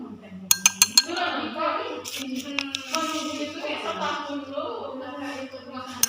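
Sharp metallic clinks of a spatula scooping against glass, several quick taps early then scattered strikes, over steady background music, during a school diffusion and osmosis lab experiment.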